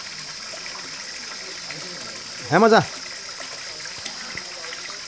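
Water gushes out in a steady, continuous hiss while a container is being filled. A voice briefly speaks over it.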